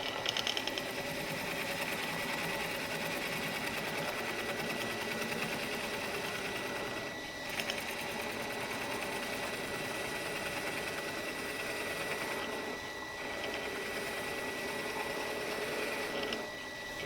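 A wood lathe turns a baluster blank between two squares down into a cylinder, giving a steady, continuous mechanical whir with a constant hum that stays even throughout, with brief dips where the tool leaves the wood.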